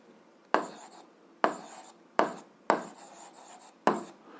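Pen or chalk writing out an algebra solution in a quiet room, five separate rasping strokes in an uneven rhythm, each starting with a sharp onset and then fading, close and fairly soft.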